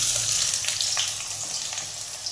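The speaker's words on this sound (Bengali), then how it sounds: "তেলটা গরম হয়ে গেছে, তাতে আমি কাঁচা পেঁয়াজগুলো দিয়ে দেবো" Raw onions sizzle and fry in hot oil in a wok, a steady bright hiss with small crackles throughout, close and continuous with no talking.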